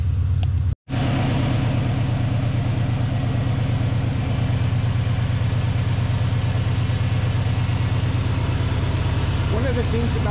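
An old car engine idles with a steady, rhythmic low rumble, close and loud, after a brief dropout near the start, running on evenly throughout.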